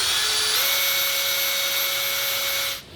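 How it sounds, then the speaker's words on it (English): A jigsaw saws steadily through a metal van roof for a rack install, a loud continuous high-pitched whine and rasp with the pitch stepping up early on, then cutting off abruptly near the end. "that's where I'll make the final cuts with the jigsaw"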